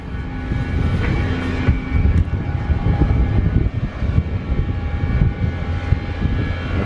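Steady engine and cabin rumble of an easyJet airliner parked at the airport as passengers board for a Cyprus to Luton flight, a continuous broadband roar with a faint steady hum, no talking.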